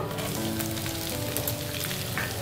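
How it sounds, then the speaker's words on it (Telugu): Onions sizzle and crackle steadily in hot oil, a dense, continuous frying hiss close up with no talking. "ఉల్లిపాయ ముక్కల్ని కూడా వేసి ఒకసారి మనం మిక్స్ చేసుకుందాము"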